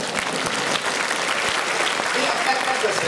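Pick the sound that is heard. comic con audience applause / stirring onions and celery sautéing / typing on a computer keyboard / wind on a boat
comic con audience applause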